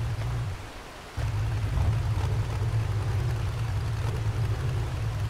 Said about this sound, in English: Now it's revving.